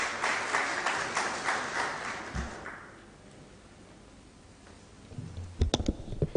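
Conference audience applause as a university professor walks up to speak, a dense patter of clapping that fades out after a few seconds, leaving quiet room tone before a few louder claps near the end.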